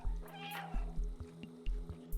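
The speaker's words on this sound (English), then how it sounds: "That's why you hear a lot of meowing," A cat meows repeatedly in the video game Stray, several short close cries over a soft trickling, watery backdrop with light clicks.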